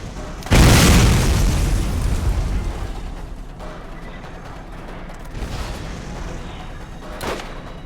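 Mines blow up in the Borderlands video game: a loud, sudden boom rolls off and fades, then a fainter second burst follows, and a sharp crack comes near the end.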